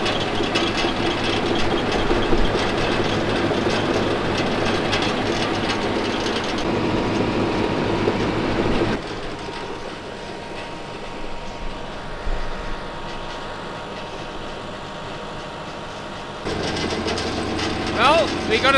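A 1200 kg forestry cutter driven off a tractor PTO at about 800 RPM, giving a loud, steady mechanical drone with a rattling, ratchet-like clatter. It drops in level midway and then swells back up near the end.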